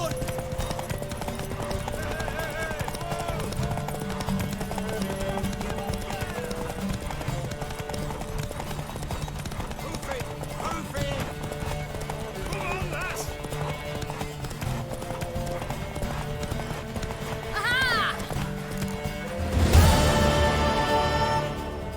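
A horse gallops in a race in The Witcher 3, its hooves pounding in a fast, continuous clip-clop throughout, with background music, an occasional whinny and people talking over the ride.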